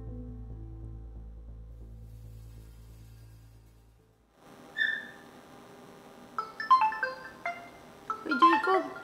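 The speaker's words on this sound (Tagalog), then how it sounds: "Uy, Jacob, tumatawag si mama mo." A mobile phone rings with an incoming call, a repeating melodic ringtone in bright bursts that grow busier after a low humming passage, fairly near and without talk.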